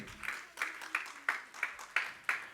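A church congregation claps hands in a steady rhythm, about eight sharp, evenly spaced claps at roughly three per second, moderately loud and reverberant with no talk over them.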